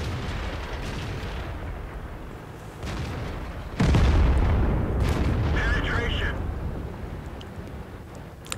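An M48A1 Patton tank fires its cannon in a video game, one heavy deep boom rising over engine rumble, with someone talking over the steady noise before and after.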